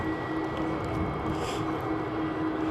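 An Airbus A330 airliner at Helsinki Vantaa Airport gives a steady, distant jet roar with a faint whine held over it, heard alone with no voices.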